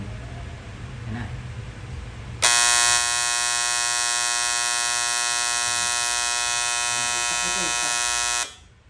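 A programmable digital timer sets off a loud, steady electric buzzer alarm for about six seconds before it cuts off. Faint talk and background noise come before it.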